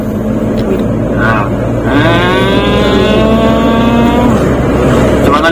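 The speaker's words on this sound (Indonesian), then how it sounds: "Ini mesin Pajero soalnya, 2500 diesel." A Karimun Wagon fitted with a Pajero 2500 diesel engine climbs a steep uphill road, its low engine drone rising in pitch as it revs under load, with people talking over it.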